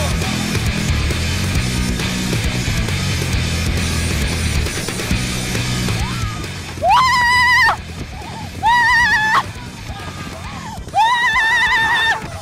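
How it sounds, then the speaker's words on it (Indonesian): A horse pulling a cart carrying two people in a cart race on Sumbawa island neighs loudly three times over a steady rumble of hooves and wheels, with a whinny standing out near the end. "Kuda ini jauh tertinggal karena harus menarik gerobak yang dinaiki dua orang sekaligus."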